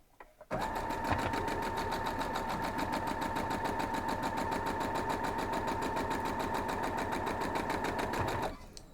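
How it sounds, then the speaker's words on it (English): A sewing machine stitches quilt block pieces for a gallery star block in one continuous, steady run of rapid mechanical chatter lasting about eight seconds, starting and stopping abruptly. "we're going to go back over and sew this to the last one"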